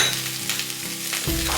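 Chicken for chilli chicken fries in a pan, a dense continuous sizzle with stirring scrapes and a sudden louder surge of hissing toward the end.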